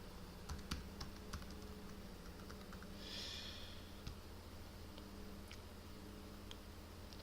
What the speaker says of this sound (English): let me input my password